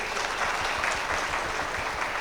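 Seminar attendees at a medical seminar give a doctor a brief burst of applause: dense, even clapping from a crowd, moderately loud and without speech.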